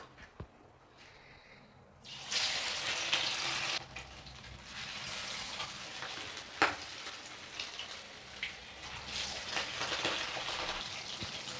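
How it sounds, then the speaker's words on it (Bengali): Fish frying in hot oil in a wok for a curd fish curry: a quiet start, then a strong crackling sizzle that continues steadily with popping spatters and occasional louder bursts, no speech. "কড়াইতে তেল দিয়ে দিয়েছি। তেলটা গরম হয়ে গেছে। এবার মাছ ভেজে নেব।"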